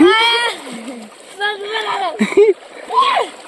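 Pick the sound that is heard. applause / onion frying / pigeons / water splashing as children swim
water splashing as children swim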